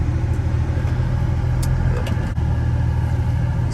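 Inside an Infiniti G35 on the move, a steady low engine and road rumble fills the cabin, loud and continuous with faint small rattles.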